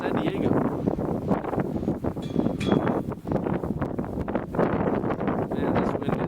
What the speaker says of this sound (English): Man, this wind is something else today.